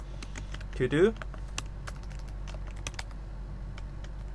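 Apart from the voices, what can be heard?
typing code on a computer keyboard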